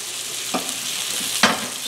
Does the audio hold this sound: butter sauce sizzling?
yes